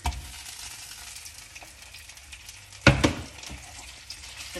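Venison frying in butter in a pan for a casserole, a soft steady sizzle with a sharp clattering burst as the meat goes in near the middle, close and without talk.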